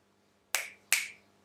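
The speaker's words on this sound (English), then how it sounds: "Is that my finger snap or is that an anonymous finger snap?" Two crisp finger snaps ring out close and clear, about half a second apart, each a sharp bright crack with a short decaying tail over a quiet room hum.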